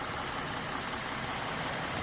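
2012 Ford Mustang with a 3.7-litre V6 engine idling smoothly, a steady, even hum with airy broadband noise and no speech.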